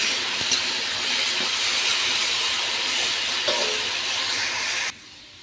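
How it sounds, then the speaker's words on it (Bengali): A continuous, fairly loud sizzle rises from salted potatoes frying in a pan for ghugni, holding steady with no talk before stopping abruptly near the end. "আলুটা অনেকটা ভাজা হয়ে গেছে"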